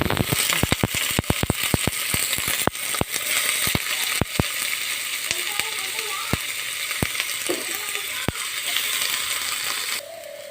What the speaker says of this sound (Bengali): পেঁয়াজগুলো বেশ ভালো করে ভাজা ভাজা হয়ে গেছে